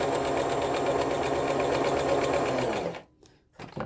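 A Brother XL-2600i sewing machine runs a zigzag stitch in a steady, close, continuous mechanical whir that stops abruptly near the end, leaving a few faint handling clicks.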